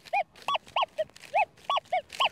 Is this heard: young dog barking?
yes